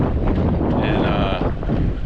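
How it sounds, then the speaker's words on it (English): Strong cold wind blows across fishing docks, buffeting the microphone in a loud continuous roar, with a faint tonal hum partway through. "it is brutally windy and cold"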